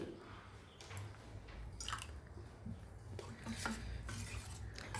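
A spoon stirs thick rava dosa batter in a bowl, soft squishy scrapes and clinks repeating steadily at low volume.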